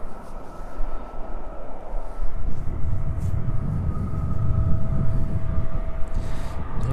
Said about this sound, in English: we catch that Ryanair off to Lanzarote departing out